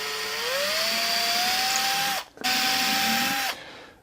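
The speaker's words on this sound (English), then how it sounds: "So I'm using the same drill bit that I used to drill the clearance hole, so it'll put a little center dimple right where I want to put my screws." A power drill with a bit spins up to a steady whine, cuts out briefly, then spins again, drilling small center dimples through the back of a wooden console table; close and loud, no talking.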